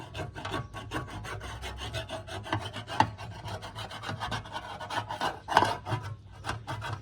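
Dense rasping scrape of caked grass being cleared off an Allett Stirling mower's bladed cartridge, steady rough strokes with a few sharper scratches, close and alone.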